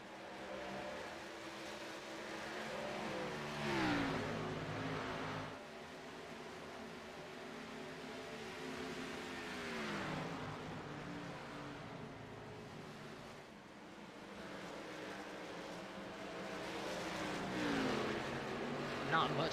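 Engines of NASCAR Truck and Xfinity cars in a sim racing game at Homestead drone and rise in pitch as they pass in a pack, with a commentator talking over the steady racing roar.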